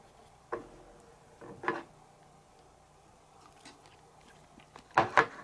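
Raw isaki fish is bitten and chewed up close, with soft, moist mouth sounds and a few sharper bites spaced irregularly, ending in a cluster of quick chews.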